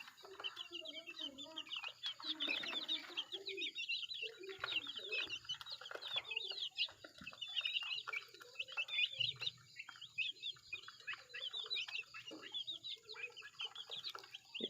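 Many chicks chirp continuously in a busy, high twittering chorus, with lower clucking from a rooster, their single father, mixed in; someone speaks quietly underneath.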